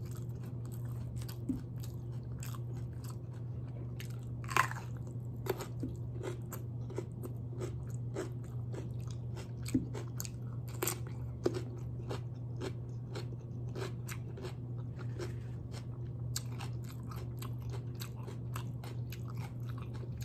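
Someone bites and chews crispy fried lumpia spring rolls, with sharp crunches scattered irregularly over a steady low hum, close and fairly quiet.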